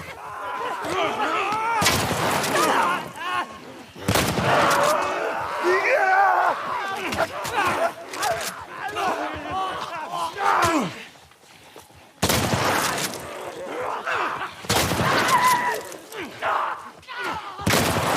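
In The Last of Us, shotgun blasts boom loudly and several times amid a frantic fight against surrounding enemies, heavy bursts standing out over continuous game noise and shouting.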